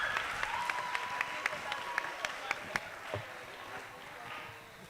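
An audience at an inter-school spoken word contest in Accra gives a round of applause, with steady clapping and a few sharp claps under a faint background tone, fading toward the end.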